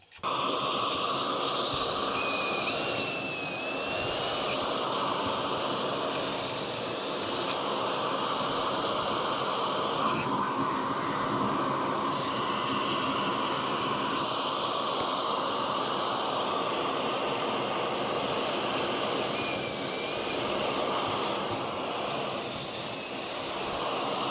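A steady, loud whooshing roar of vacuum suction runs without a break, with faint high squeaks now and then over the constant hiss.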